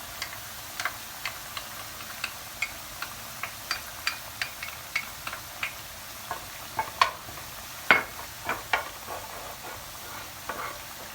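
Tomato paste fries in a little oil in a pan, a soft, quiet sizzle broken by repeated sharp taps and clicks of a spoon stirring, coming at a fairly regular rhythm.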